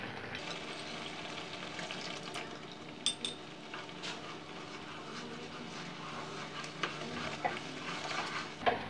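Sweet and sour sauce for quail eggs being stirred in a pan after tapioca starch goes in, a steady soft simmering hiss with light scraping and a few faint clinks of a utensil against the pan.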